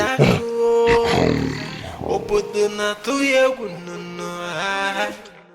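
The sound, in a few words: lion roaring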